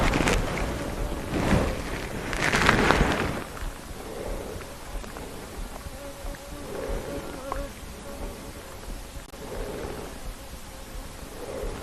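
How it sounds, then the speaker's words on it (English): A bee hums and buzzes around the camera on a live safari drive outdoors, its droning rising and falling in several short passes amid wind and rustling background noise. "Oh, don't move, it is a bee. Go away, bee."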